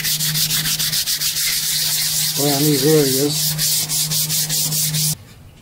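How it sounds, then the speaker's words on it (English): Sandpaper of 600 grit rubs lightly back and forth over primer on a car body, a steady rhythmic scratching close to the listener, with a brief spoken phrase partway through and a hum underneath. "and I'm just lightly sanding it"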